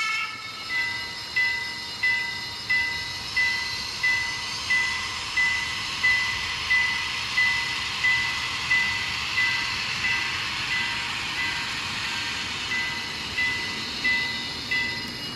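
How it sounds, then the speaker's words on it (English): Recorded sound of the real TurboTrain played through an N scale Rapido TurboTrain model, with a steady mechanical rumble and a regular pulsing chuff, plus a thin, high repeating tone running through it. "The turbo has an ear-splitting horn recorded, and our model is recorded from the real thing."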